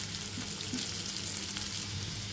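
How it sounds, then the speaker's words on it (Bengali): Pieces of ghati taro (kochu) fry in oil with a steady, close, even sizzle and hiss, and no one speaks. "ঘাটি কচুগুলো আমাদের ভাজা হয়ে গিয়েছে"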